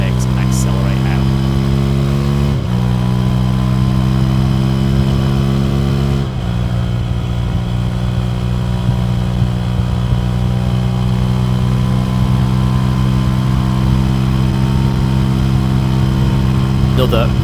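Motorcycle engine accelerating hard on the Nürburgring Nordschleife, a loud, steady high-revving drone with pitch climbing through gears and two quick shift breaks, heard close from onboard over wind.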